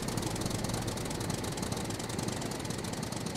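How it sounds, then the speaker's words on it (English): A tractor engine in the survival video game Scum drones with a loud, rough, constant rumble and rattling knock, steady and unbroken, with no voices over it. "There they go, off in their tractor."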